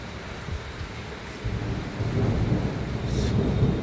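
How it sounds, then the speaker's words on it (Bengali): A thunderstorm with heavy rain roars steadily and close, a broad wash of downpour with deep rumbling thunder swelling in the second half, no voices. "প্রচণ্ড প্রচণ্ড ঝড় বৃষ্টি হয়ে গেল।"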